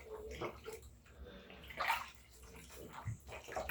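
Water sloshes and splashes softly as a Nike ski mask is washed by hand in a basin, with quiet, irregular swishes and drips close by.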